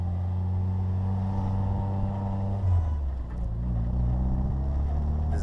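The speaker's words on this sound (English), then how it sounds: "So I really like this Bugeye and I thought I'd take you for a drive." 1960 Bugeye sports car driving around a parking lot, its small engine droning steadily from inside, revving briefly and shifting pitch midway before settling back to a steady hum.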